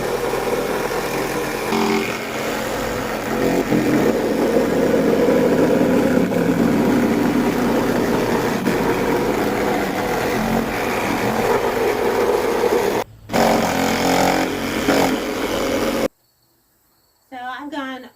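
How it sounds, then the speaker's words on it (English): A Sawzall reciprocating saw cuts around the edge of ceiling paneling in a 1965 houseboat, a loud continuous motor buzz that drops out for a moment and restarts, then ends in quiet. "I'm going to use my Sawzall and try to cut this enough around the edge that I can get it down"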